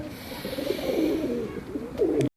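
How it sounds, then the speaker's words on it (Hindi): A breeder pigeon coos close by, soft rolling coos that rise and fall in a couple of phrases against quiet room tone. "ये एक और ब्रीडर कबूतर है"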